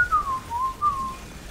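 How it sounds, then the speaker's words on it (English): A person whistles a tune: one clear, sliding melodic line, close and fairly loud, with no other sound. "I can whistle it, but it might blow your eardrums"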